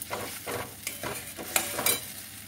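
Jackfruit masala is sautéed in a pan with rhythmic scraping stirs over a close, continuous sizzle, each stroke rising and fading in quick succession.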